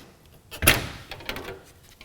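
A sharp click as the metal access door of a Honeywell electronic air cleaner pops open, followed by a few lighter rattles and knocks.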